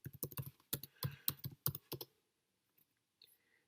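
Someone is typing a search keyword on a computer keyboard: a quick burst of close, crisp key clicks for about two seconds, then a few faint, scattered taps.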